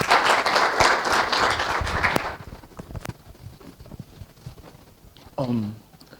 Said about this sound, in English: Can we give him a nice warm round of applause as he comes up to the stage?